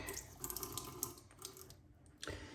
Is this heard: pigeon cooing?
no